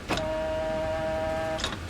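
A church pipe organ playing a C with faulty pneumatic connections: a wheezy, reedy sustained tone with a hiss of air at its start and end, held steadily for about one and a half seconds.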